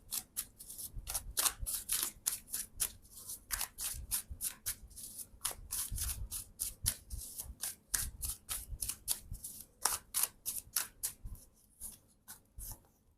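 Tarot cards shuffled by hand in quick, repeated riffles and slaps, a brisk uneven rhythm of crisp papery bursts close to the microphone, continuing for over ten seconds with no speech.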